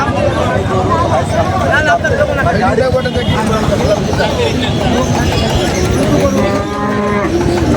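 Cattle low repeatedly at a busy pre-Eid cow market in Gabtoli, Bangladesh, with bulls on sale; the moos rise over a constant loud crowd babble and traffic noise throughout.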